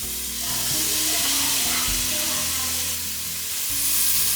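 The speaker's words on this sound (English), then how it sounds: "Now we're gonna go ahead and add some minced garlic." Minced garlic sautéing with softened celery, carrots and onion in a hot pot for a winter soup, a close continuous sizzle and hiss with a few stirring knocks, no voices.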